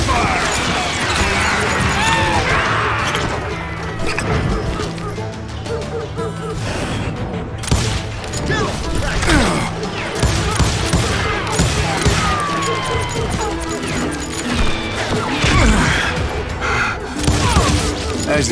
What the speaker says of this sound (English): Stay on it! Cover fire!